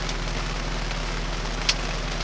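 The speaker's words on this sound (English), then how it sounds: "It's raining" Rain falling in the dark outside a car, a soft continuous hiss of drops over a low steady hum, with one brief sharp tap near the end and no talking.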